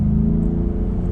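A Ford F-150 Raptor's twin-turbo V6 holds a steady, loud, close low rumble with a smooth engine drone, no voices over it.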